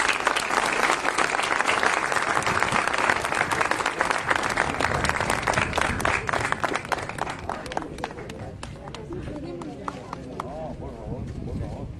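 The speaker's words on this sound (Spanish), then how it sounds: "gracias y un aplauso para Sonia" Loud crowd applause for Sonia at a ceremony in Tacuarembó, Uruguay, dense clapping that thins and fades in the last seconds.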